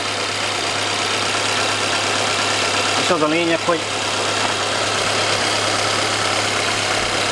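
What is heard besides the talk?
car engine idling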